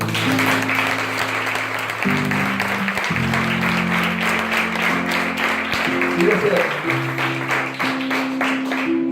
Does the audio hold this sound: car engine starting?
no